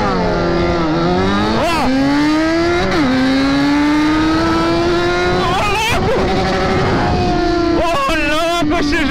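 A Yamaha XJ6 and a Honda Hornet race head to head, one remapped with a sport exhaust, engines loud and close, revving hard with rising pitch and sharp gear-change dips throughout.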